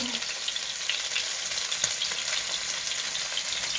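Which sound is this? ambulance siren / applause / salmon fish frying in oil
salmon fish frying in oil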